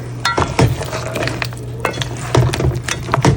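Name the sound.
lobster cooking in curry pot on low heat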